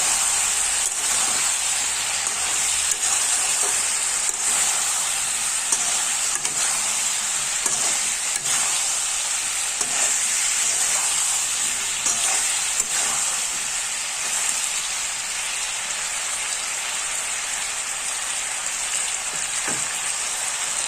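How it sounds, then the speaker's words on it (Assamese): Chicken masala and meat masala frying in a pan and being stirred, making a continuous loud sizzle with faint scraping strokes throughout, close by and without pause. "তাৰপিছত দিলোঁ চিকেন মছলা, তাৰপিছত দিলোঁ মিট মছলা। এইখিনি অকণমান লাৰি দিম।"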